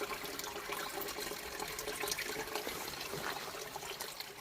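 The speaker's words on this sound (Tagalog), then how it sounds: "Ayan yung saan nanggagaling yung yung tubig." Water running out of a natural spring beside a large tree on a foggy morning, a continuous gurgling trickle and splash, fairly faint and steady throughout with no talk.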